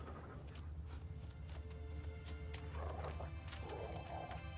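A horse in The Witcher 3 trots with steady clip-clopping hoofbeats and gives a brief whinny, fairly quiet over a low ambient game background.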